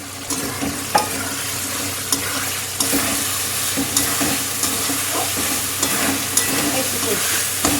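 Fried potatoes stirred into a spice paste of oil and turmeric in a pan, for a vegetarian dish, sizzle steadily under repeated scraping strokes of a spoon, close and without voices.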